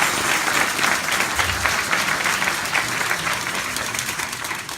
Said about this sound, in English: Give a round of applause for him for having the most KTPs.